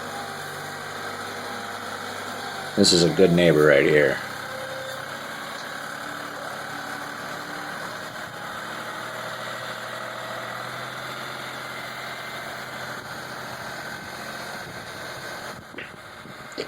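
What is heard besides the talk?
4-wheel drive tractor engine idling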